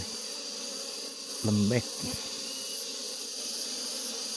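Apis cerana bees drone and buzz steadily around a young hive while the colony is moved into a box, and a voice cuts in briefly over the continuous hum.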